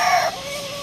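A short, close rooster vocalization, a brief burst of clucking that fades into a lower sustained tone.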